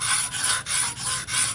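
A dowel-machine knife blade scrapes back and forth across a wet whetstone in about five even rasping strokes, close and alone.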